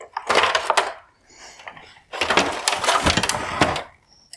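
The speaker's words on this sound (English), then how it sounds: "I can now pull the bezel off" Plastic headlight bezel on a Mercedes-Benz GLE350 LED headlight being pulled off by hand, two bursts of close scraping and clicking plastic, each about a second long, split by a short quiet gap.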